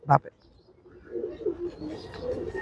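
Female pigeons kept for racing in Narayanganj give a soft, low cooing that continues through the second half, faint and close, after a short voice at the start.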